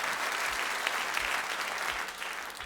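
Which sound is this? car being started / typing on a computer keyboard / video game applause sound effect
video game applause sound effect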